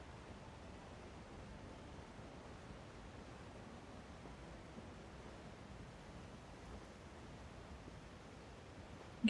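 A waterfall in the video game Elder Scrolls Online, heard as a faint, steady, even rush of falling water with no change throughout.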